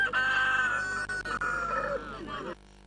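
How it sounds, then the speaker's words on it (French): A Brahma meat rooster crows once at a daytime bird market, a loud, close, drawn-out call lasting over two seconds with a rough trailing end. "Cocorico un dimanche en pleine journée pour ce coq de chair, une espèce appelée Brahma."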